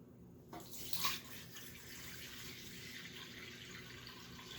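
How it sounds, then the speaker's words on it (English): Water running through a siphon tube from a raised container down to a lower one, a soft steady trickle and gurgle starting after a brief louder splash, continuing evenly and fairly close. "See, it's naturally flowing now."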